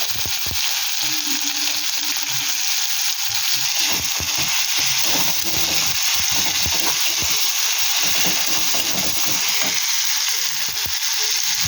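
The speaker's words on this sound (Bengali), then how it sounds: "5 টেবিল স্পুন চিনি দিয়ে দিলাম। চিনিটাকে ভাজবো।" Sugar, five tablespoons of it, frying in a hot pan, giving a steady loud sizzle with scattered crackles and stirring scrapes throughout, no talking.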